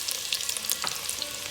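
A brief burst of mustard seeds, whole peppercorns and sliced garlic frying in hot oil, a bright steady sizzle with faint pops, heard close up.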